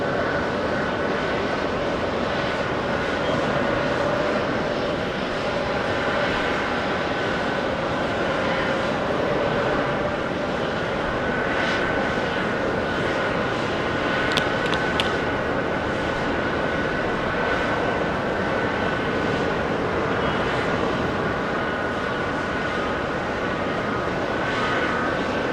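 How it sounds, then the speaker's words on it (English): An Aeromexico airliner lifts off from runway 15 at JFK, a loud, steady jet engine roar that holds throughout with no voices. "Aero Mexico lifting off using 15"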